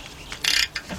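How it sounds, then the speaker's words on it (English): A hand ratchet turning a 15mm 1/2-inch drive socket on the 3.7 engine of a 2003 Jeep Liberty Sport, heard up close as one short burst of rapid clicking and then a briefer second click. "got my 15mm 1/2" drive socket"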